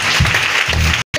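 A church congregation applauds to acclaim the Lord during a Christmas 2018 seminar, with steady, dense clapping filling the space before a brief silent gap and a short resumption.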